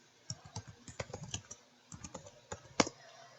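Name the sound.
typing on a computer keyboard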